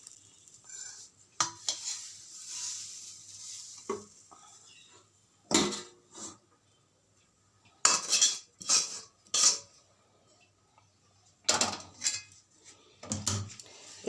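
Lentil dough scraped from a pan onto an oiled plate: bursts of metal spoon scraping and clanking against cookware in irregular clusters, separated by quiet pauses, close and fairly loud with no talk.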